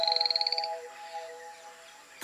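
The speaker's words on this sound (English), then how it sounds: "Poison dart frogs." Poison dart frogs give a rapid pulsing trill at the start, a quick run of evenly spaced notes that stops after about half a second, leaving soft tonal background sound that fades out.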